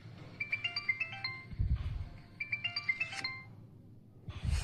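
A mobile phone ringtone plays a bright, repeating electronic melody in two loud bursts, with a low thud and rustle between them and a muffled bump at the end.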